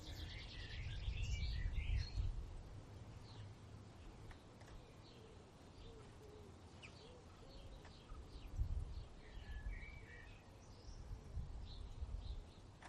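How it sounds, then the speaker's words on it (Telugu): Birds chirp outdoors, with faint, scattered high tweets and calls set against a low, rumbling background that swells now and then. "నేచర్కి దగ్గరగా బర్డ్ సౌండ్స్ వింటూ"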